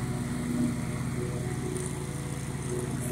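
A riding lawn mower drives around cutting long grass, its engine droning steadily and continuously at close range with no talk over it.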